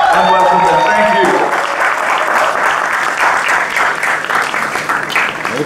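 A large audience applauds loudly and continuously at a film trailer launch for Bambai Meri Jaan, the clapping following a voice at the start and holding steady throughout.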